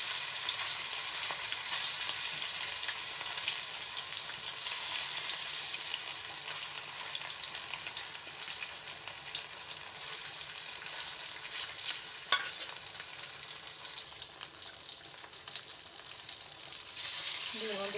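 Chicken pakoras in a pan give off a bright, steady hiss of frying with light scrapes and one small knock, close by and continuous, without any voices.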